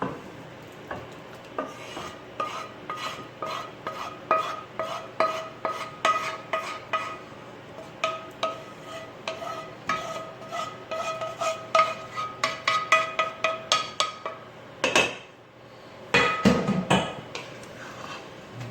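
Rigatoni and vodka sauce stirred together in a pot, a steady run of soft wet scraping and clinking strokes close by with no talking, pausing briefly near the end before a few louder stirs.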